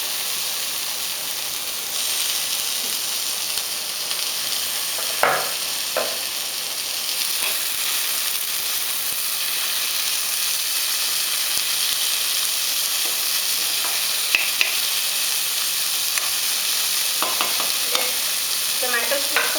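Tomato and onions fry in a pan for a ladies finger gravy, a constant loud sizzling hiss with occasional scraping strokes of a spatula stirring through it.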